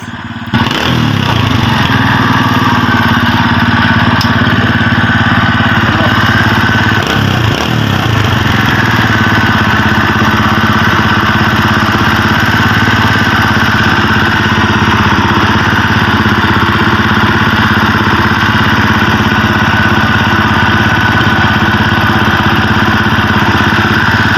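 A Kawasaki Barako motorcycle engine runs steadily at idle, loud and close, a continuous throbbing drone after a short start, with no talking, on a bike that is hard to start and sometimes stalls.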